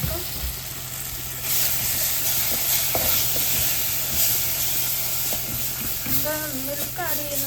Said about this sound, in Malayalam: അപ്പോൾ ഒരു ശക്തം ചൂടുവെള്ളം ഒഴിച്ചെടുക്കാം